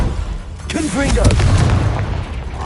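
An explosive spell detonates in the Hogwarts Legacy game as a loud, booming blast, with a voice shouting over it and a rumbling tail after the impact.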